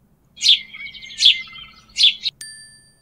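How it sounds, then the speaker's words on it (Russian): A sparrow gives three sharp, close chirps in an even rhythm, followed by a brief ringing ding. "Покажи воробья. Он маленький и серенький."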